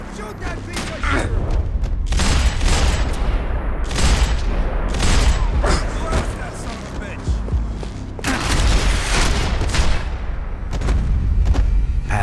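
Gunfire in the video game Max Payne 3, with dense bursts and rapid shots in a running firefight, loud and close, with voices in between.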